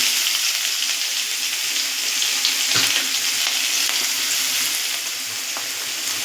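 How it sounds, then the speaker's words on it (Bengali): Grated ginger, garlic and chopped chili sizzle in hot oil in a pan, a dense, constant hiss of frying that stays loud and close throughout with one sharp crackle midway. "তেল গরম হয়ে গেছে, এদিকে আমি আদা রসুন আর লঙ্কাটা যে গ্রেট করে রেখেছিলাম সেটার মধ্যে দিয়ে দেবো।"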